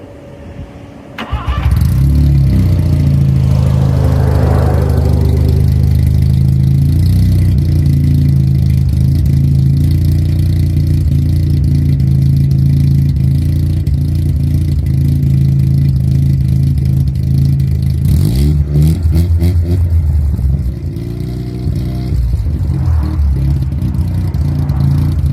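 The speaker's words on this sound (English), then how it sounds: "So why don't I fire it up right now and let you hear it." A $1000 Mazda RX7's rotary engine cranks and catches, then settles into a loud, steady idle that runs for over twenty seconds, with a brief blip of revving near the end.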